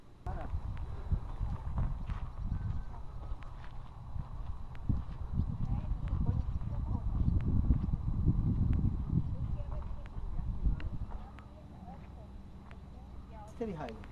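Horses walking right beside a fence, a steady run of hoof clip-clops on the ground over about ten seconds, close by, with people talking quietly underneath.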